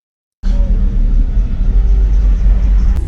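Car audio demo with 1500-watt RMS subwoofers driven by two amplifiers, 6,000 watts total: loud, continuous deep bass rumble begins abruptly after a brief silence and holds steady, with no talking.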